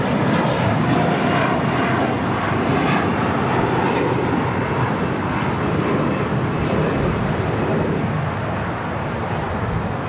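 Lufthansa Boeing 747 taxiing to a gate on the southwest side of LAX, its engines giving a steady, loud, broadband jet roar that holds nearly constant, easing slightly toward the end.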